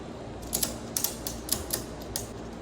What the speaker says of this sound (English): Tightening up the strap, creating some tension.